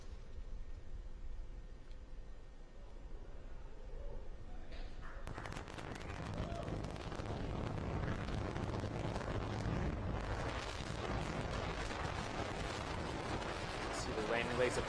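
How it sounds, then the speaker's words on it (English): Rocket first stage landing burn engine ignition during the NROL-76 launch, a broadband roar that swells abruptly about five seconds in and holds loud and rumbling to the end, under a faint voice. "Landing burn startup. And landing burn has hit startup"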